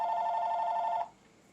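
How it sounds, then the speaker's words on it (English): A telephone rings with a steady electronic trill for about a second, then cuts off, leaving only faint room hiss. "Sorry about the phone ringing."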